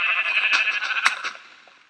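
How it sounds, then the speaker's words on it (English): Sheep in the Minecraft video game bleat in a quick run of wavering calls at close range, then fade out by the end of the two seconds. "sheep over there"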